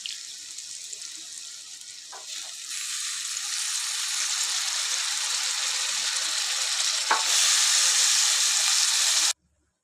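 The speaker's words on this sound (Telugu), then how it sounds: "మిక్స్ చేసుకుంటే ఆయిల్లో మంచిగా ఫ్రై అవుతుంది కాలీఫ్లవర్" Cauliflower frying in oil while being stirred in a pan for a home-made masala curry, a steady broad hiss that builds louder over several seconds, then cuts off abruptly near the end, with no talking.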